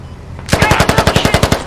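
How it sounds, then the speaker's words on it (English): Automatic gunfire in the video game Squad, a sharp, loud burst of about a dozen rapid evenly spaced shots right up close, starting after a brief quiet lead-in. "he's shooting me through the tent."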